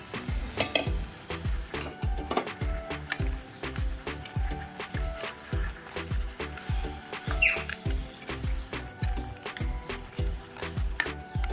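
Crab masala in a pan being stirred after water is added, with rhythmic scraping strokes against the pan, wet squelching and a light sizzle, close and steady throughout.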